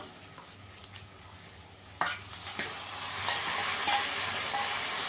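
Taro leaves drop into a pan of frying grated coconut, a quiet sizzle swelling into a loud, bright hiss after a couple of stirring clatters, close and continuous with no speech.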